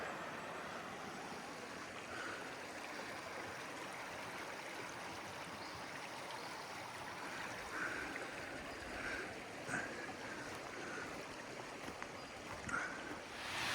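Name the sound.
water flowing at Eastern Dam on the Thomson River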